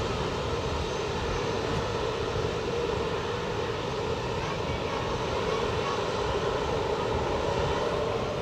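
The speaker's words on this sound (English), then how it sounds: "Our next departure on runway 28 will be an Airbus 220-300 series off to Geneva" Airbus A220-300 jet departing runway 28 at Zurich airport, a steady loud engine roar filling the whole stretch without letup, no speech over it.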